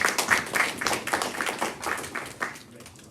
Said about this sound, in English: Big clap for Bo.